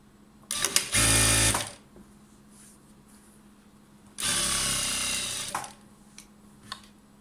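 A straight-stitch sewing machine hems a skirt in two steady whirring runs of roughly a second each, separated by quiet pauses and small clicks, close and fairly loud with no talking.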